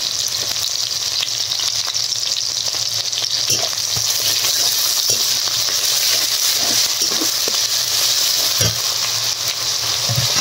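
Chopped onion, garlic paste and spices fry in a pan with bay leaf tempering for a prawn malai curry, giving a loud, continuous sizzle with occasional soft stirring scrapes and no voices.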